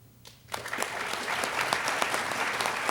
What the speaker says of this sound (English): Please now indicate your approval by giving a round of applause.